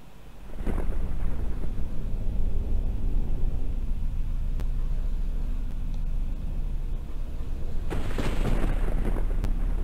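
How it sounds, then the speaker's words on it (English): Thunder rumbles through a stormy level of the video game Doom 64, a broad, loud, sustained roar with sharper cracks near the start and again near the end, heard alone without talk. "now I'm hearing, you know, lightning in the background"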